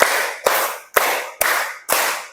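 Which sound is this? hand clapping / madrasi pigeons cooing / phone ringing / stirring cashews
hand clapping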